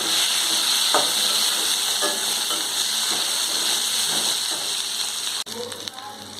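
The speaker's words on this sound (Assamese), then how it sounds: "এইখিনি মই অকণমান সময় ফ্ৰাই কৰিম, যাতে পিঁয়াজৰ কেঁচা কেঁচা গোন্ধটো গুচি যায়" Onion, ginger, garlic and green chillies sizzle steadily in hot oil for a paneer curry, a loud continuous hiss with a few soft stirring knocks, briefly interrupted near the end.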